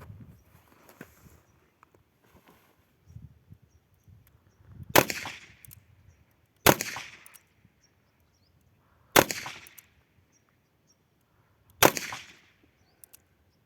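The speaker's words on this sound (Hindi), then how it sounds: "करते हैं कुछ रैपिड फायर।" Four loud, sharp gunshots from a Prahar revolver fired rapidly at a range ring out a couple of seconds apart, each with a short echoing tail, amid quiet handling noises between them.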